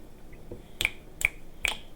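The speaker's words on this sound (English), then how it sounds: "I don't know if you heard me snapping my fingers as I tried to remember a word." Three crisp finger snaps, evenly spaced about half a second apart, close and clear against a quiet background, made by someone trying to recall a word.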